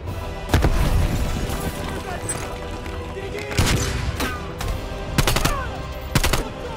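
Gunfire and a grenade blast in Call of Duty Black Ops Cold War: loud sharp shots and booms come in bursts over a steady battle din, with people talking over the action.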